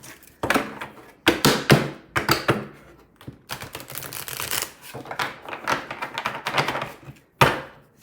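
A stiff, brand-new tarot deck is shuffled and cut by hand, giving bursts of crisp riffling card flutters and sharp slaps, separated by brief pauses, close and fairly loud with no speech.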